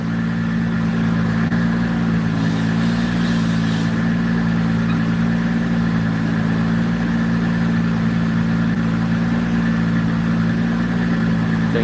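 A turbocharged car runs on a dyno, its engine holding a steady, loud droning tone at a near-constant pitch throughout, with no talk.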